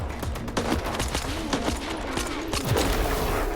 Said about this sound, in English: why is this firing like automatic when you hold the button down now?